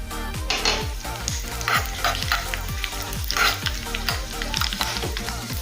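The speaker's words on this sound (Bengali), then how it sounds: "1 চামচ তেল নিয়ে গরম করে নিয়েছি। এর মধ্যে দেবো কালো সরষে," Black mustard seeds and dried red chillies sizzle and crackle in a spoonful of hot oil for a tadka, a loud, close, continuous frying with a few stirring clinks, with music playing in the background.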